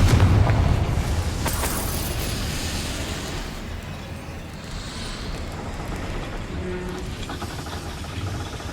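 Confringo blasting spell goes off in the Hogwarts Legacy video game, a loud boom at the start that decays into a long rumbling roar and fades under the game's ambience.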